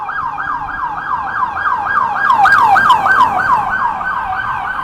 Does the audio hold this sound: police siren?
yes